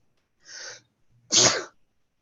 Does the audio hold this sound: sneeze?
yes